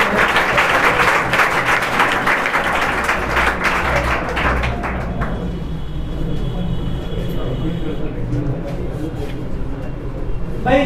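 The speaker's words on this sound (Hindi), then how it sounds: "जोरदार ताली से" A seminar audience of teachers in Narwana, Haryana breaks into loud, dense applause that holds for about five seconds and then thins out to scattered claps, with voices in the room mixed in.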